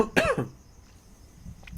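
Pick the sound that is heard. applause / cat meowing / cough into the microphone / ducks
cough into the microphone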